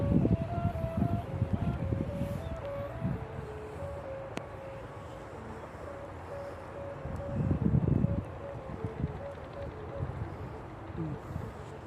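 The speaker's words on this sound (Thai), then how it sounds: "ลมมันกระโชกนะครับ" Gusty wind blows outdoors near trees while a large Chula kite with a humming line flies, bringing rough low buffeting bursts against a steady thin tone, with someone talking throughout.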